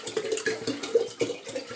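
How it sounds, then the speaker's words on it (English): Water from a gallon jug poured into an old glass pickle jar, a close, steady splashing and gurgling with uneven glugs that lasts for the whole short stretch. "Dump all the water in there."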